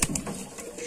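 Mardin pigeons in a loft give a brief soft coo up close, with faint rustling in the background.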